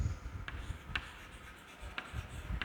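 Chalk or marker strokes on a board during an English grammar lesson, faint scratchy bursts repeating at roughly half-second intervals, fairly close, with no talking over them.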